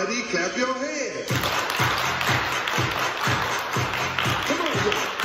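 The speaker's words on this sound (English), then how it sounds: "Everybody clap your hands." Crowd clapping hands in rough unison at a Mother's Day dance at a home for the deaf, steady rhythmic claps over loud dance music with a voice calling out.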